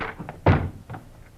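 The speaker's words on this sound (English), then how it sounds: "in a quick movement, they rushed the door to Frank Hadley." Agents rushing and forcing a bedroom door in an old radio crime drama, a sharp heavy thump with smaller knocks before and after, close and loud, no talking.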